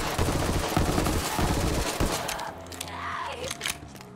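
Rapid automatic gunfire from a Borderlands 3 firefight rattles loudly and densely for about two seconds, then gives way to scattered shots and crackling effects.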